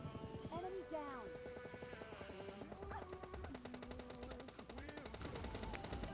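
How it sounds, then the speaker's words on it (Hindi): M4 rifle fire in the mobile game PUBG Mobile Lite, bursts of automatic shots crackling through continuous in-game sound and voices, fairly dense and steady throughout. "ये M4 से पूरी 1000 गोलियां चला देता है"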